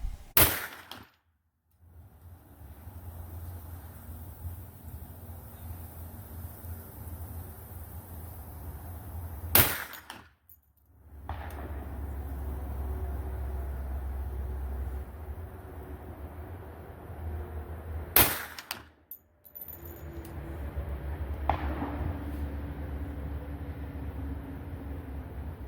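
Three sharp, loud reports from a Ruger 10mm LC carbine firing at a 100-yard range, spaced about eight to nine seconds apart, each cutting through steady low outdoor rumble with brief ringing decay.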